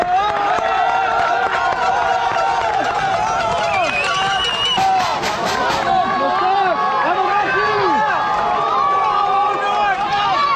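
Spectators at a cyclocross World Cup race in Benidorm make a loud, continuous roar of cheering, shouting and babble close around, with bursts of whistling and clapping.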